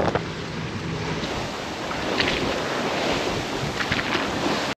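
Steady roar of wind and breaking waves from under sail on a sailboat in open water, loud and continuous with gusty wind buffeting the microphone, a few splashes rising through it, no voices.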